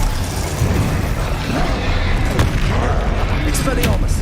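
Confringo fire-blast spell exploding in a Hogwarts Legacy fight near a troll, heard as loud booming bursts within a dense, constant din of combat sounds.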